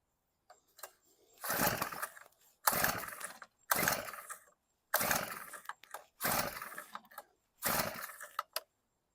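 A small Honda WX-10 water transfer pump engine on choke gives six short, sputtering mechanical bursts about a second each, separated by brief silences, close by.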